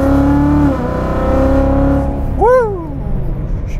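A car with water methanol injection is driven hard at full throttle. The loud engine holds a steady tone and then climbs through quick rising revs and gear changes, with a brief squeal of tyres on a cool, slippery surface.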